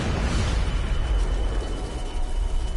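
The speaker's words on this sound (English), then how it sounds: "that was an explosion with multiple enemies" A deep, rumbling explosion in the video game Deus Ex: Mankind Divided, a loud sustained low boom with crackling debris that holds steady and then slowly fades, with no voices.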